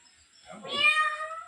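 A single drawn-out cat meow, rising and then holding, fairly close and clear against a quiet background.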